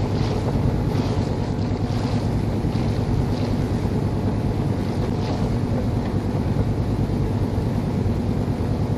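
A boat motors across water in the Rust video game, a steady loud engine rumble with rushing wind and wave noise throughout, no talk.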